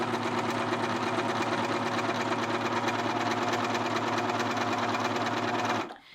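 A sewing machine runs fast and steady, stitching along a fabric edge with a rapid rhythmic clatter, close and loud, then stops abruptly near the end.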